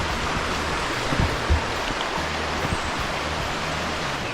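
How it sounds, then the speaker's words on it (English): Water of the River Tavy flows by Horndon Bridge, a steady broadband rushing and babbling heard close, with a few faint clunks in the middle. "River Tavy."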